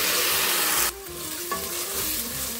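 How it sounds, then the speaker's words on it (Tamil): Rice being stirred and fried in a pan with roasted cashews and asafoetida for coconut rice, a steady close sizzle broken by scraping stirs, with no talk. "முந்திரி பருப்பு நல்லா ரோஸ்ட்டாக எடுத்து இந்த வந்து அரிசியை போட்டுடலாம்"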